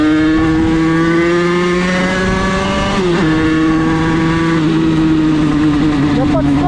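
Engine of a Derbi two-stroke motorbike, a stage 6 build, on a test ride: a steady, loud buzzing drone with a small pitch dip and recovery midway. Voices are also present.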